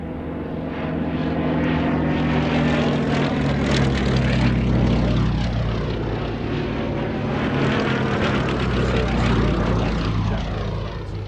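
A camouflaged Westland Lysander propeller aircraft flies over from Duxford. Its engine drones loud and steady throughout, rising and falling slightly as it passes close overhead.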